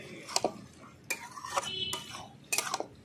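A spoon scrapes and clanks against a pot in three distinct bursts while stirring a mixed vegetable curry of broccoli, peas, carrot, beet and green tomato with chopped coriander leaves, close and clear.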